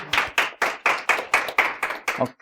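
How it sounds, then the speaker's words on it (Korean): Seminar audience claps in a steady, even rhythm, about nine distinct claps in quick succession, fairly close and tapering off at the end. "박수."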